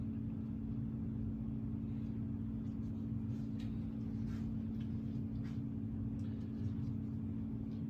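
A Hunter Summerlin ceiling fan runs on medium speed with a steady, even low hum and a faint whoosh of moving air, unchanging throughout.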